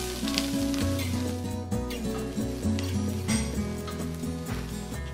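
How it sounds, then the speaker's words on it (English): Chopped yellow onion, celery and carrots frying in olive oil in a soup pot, a loud continuous sizzle with crackling bursts, heard up close over steady tonal background music. "Add one large chopped yellow onion, one chopped stalk of celery, two chopped carrots, and cook, stirring occasionally for about five minutes."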